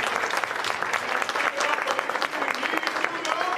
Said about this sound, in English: a round of applause for all of our candidates here